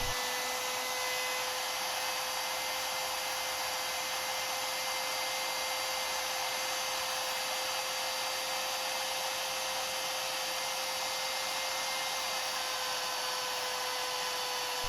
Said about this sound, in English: Here you can see how my fingers keep the router going straight.